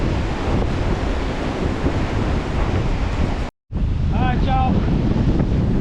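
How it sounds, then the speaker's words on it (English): Strong wind buffeting a microphone at the shore while fishing, a loud continuous roar with a brief cutout, and someone speaks over it near the end. "This wind is too much."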